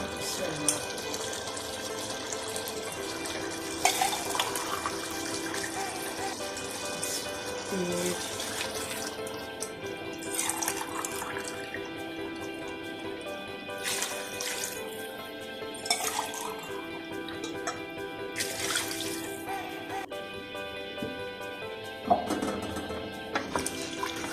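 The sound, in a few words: glasses of water poured into pot for mutton pulao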